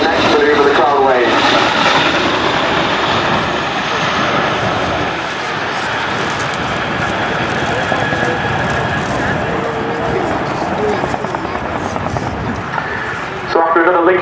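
A military helicopter flying a display routine at Culdrose Air Day, its loud, steady rotor and engine roar filling the whole stretch with broad sustained noise, while a commentator talks over it.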